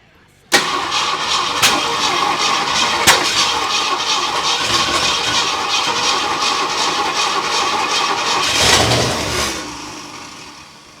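A Ford Comet's swapped-in 302 V8 cranks and fires abruptly, then runs loud and steady with a rumbling idle and a brief rev near the end before settling and fading.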